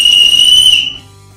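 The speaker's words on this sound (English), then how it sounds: "The adjustable sternum strap features an integrated emergency whistle." A single shrill blast from an emergency whistle built into a backpack sternum strap, loud and close, holding a steady piercing tone for under a second before cutting off.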